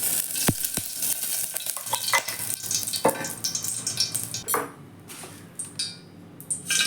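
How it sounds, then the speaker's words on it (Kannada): Mustard seeds sizzle and crackle in hot tempering oil in a pan for a home-style tomato saaru, with sharp popping clicks, utensil scrapes and a bright hiss, close and fairly loud. "ಸಾಸಿವೆ ಹಾಕ್ಕೊಂಡಿದ್ದೀನಿ"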